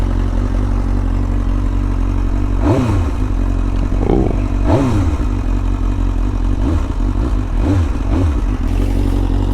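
A motorcycle idles up close to warm up after a Power Commander install, its steady loud rumble broken by several short throttle blips at irregular intervals.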